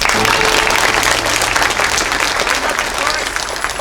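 An audience at a Missoula Children's Theater production of Snow White gives a round of applause, dense sustained clapping filling the room and slowly tapering, with a voice faintly audible beneath it.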